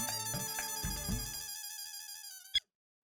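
A phone rings when a call is placed to Abdul, a bright electronic ringtone melody playing for about two and a half seconds before cutting off with a click.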